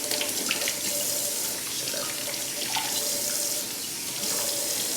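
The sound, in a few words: tap running while washing hands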